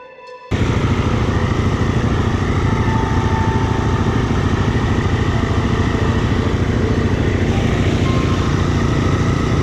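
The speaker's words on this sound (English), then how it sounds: "This machine is repowered with a 12 horsepower salt spreader engine after I completely wore out the last motor." A mower repowered with a 12 horsepower salt spreader engine cuts tall phragmites on a Delaware farm, starting abruptly and then droning loud and steady with a close, rough engine note throughout.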